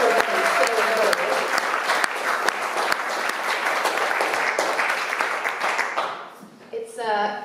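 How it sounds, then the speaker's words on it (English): A crowd at a live music venue, Seven Steps in Spring Lake, Michigan, claps steadily in a loud, sustained round of applause for Gary, Michelle and their teams; a voice is heard faintly at the start and again as the applause tails off. "Round of applause to Gary and Michelle and all of their teams."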